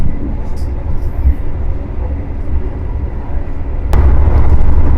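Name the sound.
Taksaka express train riding, CC206 locomotive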